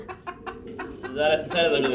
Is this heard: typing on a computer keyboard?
no